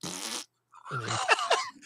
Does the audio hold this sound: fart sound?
yes